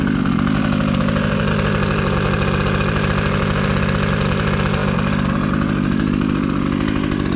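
Budget chainsaw two-stroke engine idling, a rapid buzzing putter with a steady pulsing rhythm, close and loud throughout without voices.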